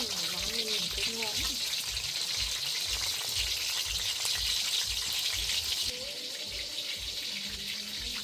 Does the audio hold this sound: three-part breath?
no